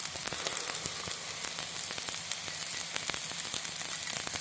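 Beaten eggs frying in hot cooking oil in a wok for chicken fried rice, steady soft sizzling and crackling with scattered pops, fairly quiet and continuous.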